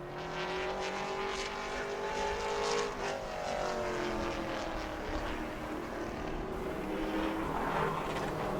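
A Pro Late Model race car at New Smyrna on a qualifying lap, its engine a steady loud roar with a rising and falling pitch as it passes by, sustained for several seconds.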